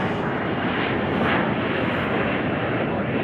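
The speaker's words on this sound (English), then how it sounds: "How could we not be here for the departure of an MD-11?" An MD-11 airliner departing Chicago O'Hare gives a continuous, loud broadband jet engine roar that holds steady throughout, heard from a distance with no talk.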